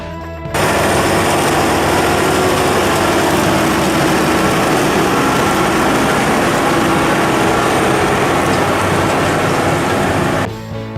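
A heavy engine of a large tractor, an AGCO Challenger MT975B, drones continuously at high power, loud and close, with a rough rattling texture throughout.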